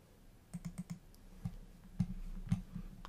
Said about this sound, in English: So I just type in the password to open it